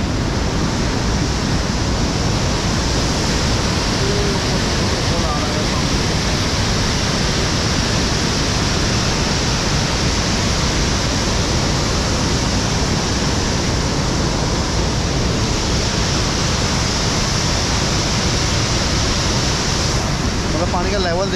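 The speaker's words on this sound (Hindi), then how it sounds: "तो सबसे पहले वाटरफॉल आपको दिखाता हूँ मैं।" Mountain waterfall beside the road from Kalpa to Nako in winter, a steady, loud roaring rush of water that fills the whole stretch without pause, with someone talking faintly underneath.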